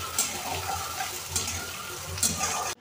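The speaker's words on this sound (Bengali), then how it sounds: "এখানে পেঁয়াজ ভাজা হচ্ছে" Chopped onions fry in hot oil with a bay leaf in a home kitchen pan, giving a steady close sizzle broken by stirring scrapes and a few sharp utensil clinks.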